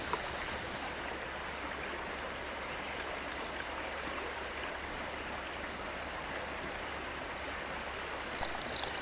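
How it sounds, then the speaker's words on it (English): A river runs past a jungle cooking spot where chai simmers on a chulha. The water makes a steady, broadband rush that stays even throughout, with no voices. "listening to the flow of the water"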